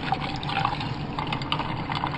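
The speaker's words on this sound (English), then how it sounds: "Now it's time to take your coffee and pour it into the ice." Coffee poured over ice while making a pumpkin spice latte, a steady continuous liquid stream with trickling and faint crackle, close and moderately loud, no talking.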